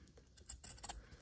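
Scissors cutting fabric straight down the middle for quilt blocks, a quick run of soft close snips lasting about a second.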